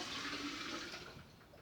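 Water poured into a vase holding an orchid, a steady close rushing splash that holds for under two seconds and eases slightly toward the end.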